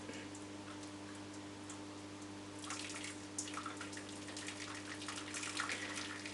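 Hot water poured gently into a cooking pot over a Scalextric slot car chassis, a soft steady trickle and splash starting partway through and continuing under a constant low hum.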